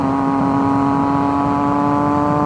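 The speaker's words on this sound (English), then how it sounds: "I can tell this Werkes exhaust is pretty loud" A loud, steady 2011 Triumph Daytona 675R motorcycle with an aftermarket Werkes exhaust, baffles in, drones at a constant idle-to-rev pitch, close by and unbroken for the whole stretch.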